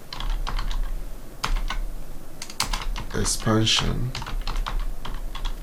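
Rapid clicks of keys on a computer keyboard while a scenario name is entered in Excel 2016's Scenario Manager, in bursts with short pauses, close and clear, with a voice briefly speaking partway through.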